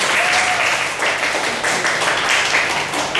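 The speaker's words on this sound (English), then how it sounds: "Round of applause for everyone." A room full of people applauds at the close of a business talk, a short burst of dense, even clapping with faint voices mixed into it.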